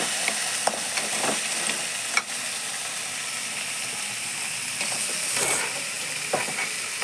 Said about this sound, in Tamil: நண்டுக்கு மேலே இது எல்லாமே சேர்ற மாதிரி நல்லாவே மிக்ஸ் பண்ணி விட்டுடலாம்.